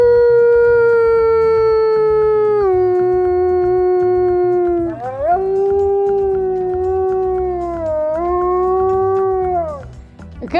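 Maverick, a wolf in the Canadian wilderness, howls alone in long, loud, sustained tonal notes, sliding down in pitch between several drawn-out phrases.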